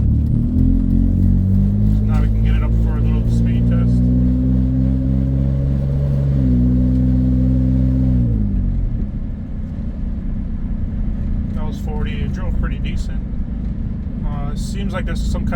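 A BMW 330Ci, an unregistered car, accelerates on the road during a speed test, its engine note climbing steadily then dropping as it shifts, loud and close throughout, with a person speaking over it later.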